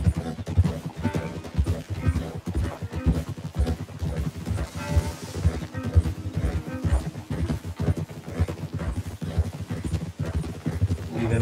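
A horse gallops in Red Dead Redemption 2, hooves pounding in a steady rapid rhythm, close and loud throughout, with brief speech mixed in.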